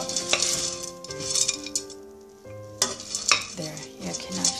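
Rice krispies are mixed into melted marshmallow, with sticky crunchy stirring and repeated clinks of a utensil against the pot, close up, with a short quieter pause in the middle.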